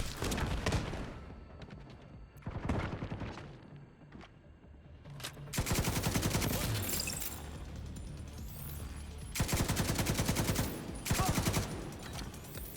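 Rapid bursts of gunfire from a striker build in a video game come in several loud, dense volleys separated by short quieter gaps, with sharp cracks and shattering impacts.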